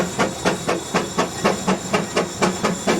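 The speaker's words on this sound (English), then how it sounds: "That's a steam-powered engine and a DC motor." A steam-powered traction engine at an antique machinery show chuffs and hisses in a steady rhythmic pulse, about four exhaust beats per second, loud and close with no voices.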